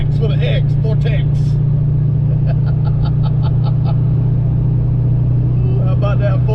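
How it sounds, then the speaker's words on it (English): A 1990 GT with a Vortex supercharger pulls hard through fourth gear, its loud, steady engine drone and low rumble heard from inside the car, with brief voices over it. "How about that fourth gear pull"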